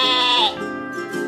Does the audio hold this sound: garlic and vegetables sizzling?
no